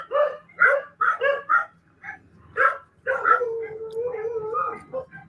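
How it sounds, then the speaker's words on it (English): Dogs bark in a quick run of sharp yips and woofs outdoors near a camper, then break into a drawn-out whining howl, fairly close and loud. "All right, here we hear the dogs."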